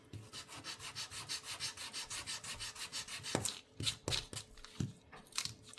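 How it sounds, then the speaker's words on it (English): Steady back-and-forth rubbing strokes of sanding on a small wooden snowman ornament, close and rhythmic for a few seconds, then breaking into a few scattered taps and scrapes. "I probably should sand it."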